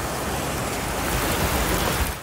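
Dense, steady hiss of heavy typhoon rain and strong wind roaring together in Legazpi City, Albay, loud and unbroken, with no voices.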